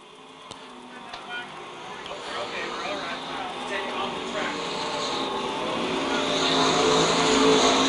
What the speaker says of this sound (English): we get a car going around turn number 2